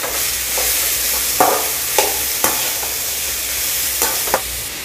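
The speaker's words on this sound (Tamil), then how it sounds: "நம்ம கட் பண்ணி வச்சிருக்க பீட்ரூட் ஆட் பண்ணிக்கிறோம் எண்ணெயில ஒரு பரட்டி பரட்டிடுவோம்" Beetroot and onion stir-fry in hot oil in a pan, with a steady loud sizzle throughout and a few scraping stir strokes of a spoon, up close.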